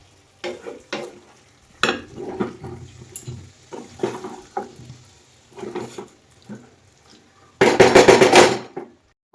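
Curry being stirred and fried in a pan with oil, a spoon scraping and knocking against the metal in irregular strokes, then a loud burst of sizzling near the end, no talking.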